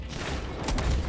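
Gunfire from a sawed-off shotgun in Red Dead Redemption 2 comes as a dense, noisy burst with a couple of sharp cracks late in the moment, loud and close, amid game ambience and no talk.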